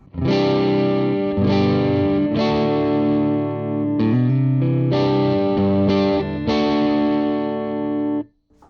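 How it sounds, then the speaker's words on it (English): Electric guitar through channel 1 of a Joyo Tweedy tube amp, with a warm, mildly overdriven tone strumming sustained chords, several ringing strums in a row, loud and up close. "It's really sounding very nice and warm, that little overdriven sound."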